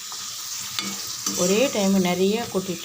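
Potato chips frying in a pan of hot oil, a steady close sizzle and bubbling with stirring scrapes, while a person talks over it.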